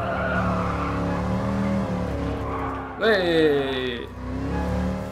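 A 1969 car driven in GT Sport in VR, its engine holding a steady droning tone, then a sharp rising rev with tire squeal midway before settling back; a voice shouts briefly over it.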